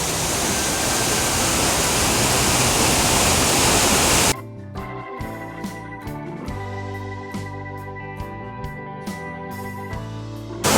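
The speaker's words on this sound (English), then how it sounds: "living waters of the waterfall" An island waterfall pours into a swimming pool as a dense, steady roar for about four seconds, then the sound cuts to a quieter scene with music-like tonal layers and soft knocks.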